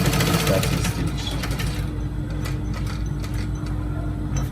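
A sewing machine stitches along the folded edge of a trouser with a steady, close mechanical whirr. A low motor hum runs underneath throughout.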